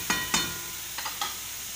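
Pineapple for gojju chutney is mashed and stirred in a pan over a steady cooking sizzle, with a few soft scraping strokes spread across the clip and no talk.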